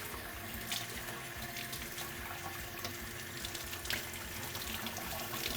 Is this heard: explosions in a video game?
no